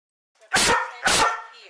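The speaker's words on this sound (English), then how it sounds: "Notice the 2 barks at regular spaced intervals." A trained dog barks twice in a row, two loud, evenly spaced sharp barks close by with a brief gap between them and nothing else around them.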